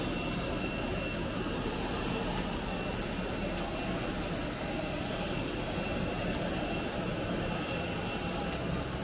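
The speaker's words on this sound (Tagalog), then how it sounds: "Masakit sa tenga yung ingay sa labas ng aeroplano." Airplane jet engine noise recorded outside the aircraft, a loud, steady broadband roar that fills the whole stretch without letting up and without any voices over it.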